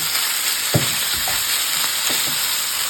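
Minced pork with onion sizzles steadily in a hot pan, with a few soft scraping stirs breaking through the constant crackle.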